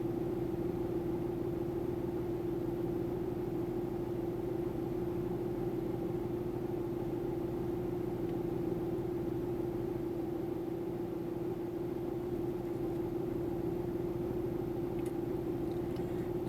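A 2004 Jeep Liberty with the 3.7L engine idles steadily, a constant low hum with an even drone and no revving, no voices over it.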